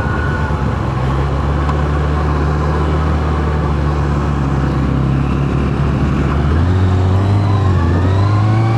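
A Kawasaki Ninja ZX-6R motorcycle engine holds a steady, loud high rev near the listener, then climbs further toward the end, with no voices over it.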